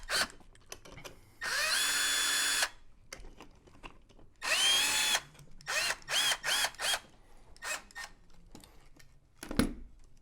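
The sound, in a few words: power drill with a small drill bit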